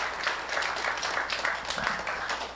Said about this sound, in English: nice round of applause for all of our 8 teams here tonight